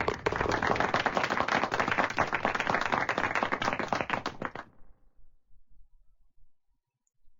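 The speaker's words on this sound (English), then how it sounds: "Always like to hear the clapping." A crowd applauds in the WGT golf video game during a Country Club tournament, a dense, steady clapping that lasts about five seconds and then cuts off, leaving faint low noise.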